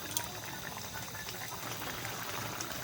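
Parshe fish and eggplant curry simmering in a pot, a steady low bubbling hiss that runs unbroken and close throughout, with no distinct pops.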